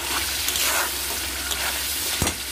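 Masala mixed with cashew and poppy seed paste is stirred in a hot pan, a dense close sizzle with a few scraping strokes and a louder knock near the end, no one speaking.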